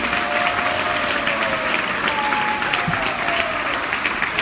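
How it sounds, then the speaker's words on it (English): An audience at a spiritual class in Toronto applauds a visiting teacher, with steady, dense clapping that holds evenly throughout and a faint voice or whistle-like tone carrying over it. "Another round of applause for"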